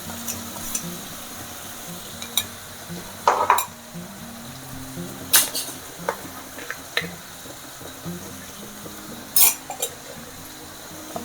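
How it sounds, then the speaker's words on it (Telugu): A pan of mint, coriander and green chili paste fries in oil, a quiet steady sizzle broken by occasional clinks and scrapes of a spoon stirring against the pan. "ఇది ఆయిల్లో కొంచెం ఫ్రై అవ్వాలి"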